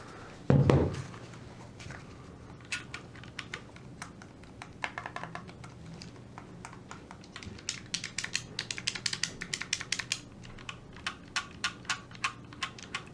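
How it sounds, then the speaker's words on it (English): Oculus Quest 2 VR controller buttons clicking, a loud thump at first, then scattered light plastic clicks that speed up into quick repeated tapping, close and otherwise quiet. "Nice clicky controller feel."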